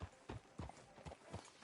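Horse hooves clip-clop at a steady walking gait on a town street in the Red Dead Redemption 2 video game, about eight evenly spaced close thumps over a bed of ambient game noise.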